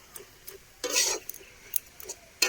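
A spoon stirs fried shrimp through vegetables in a pan, producing a handful of brief scraping strokes and light metal clicks over a faint background sizzle, close and quiet with no voices.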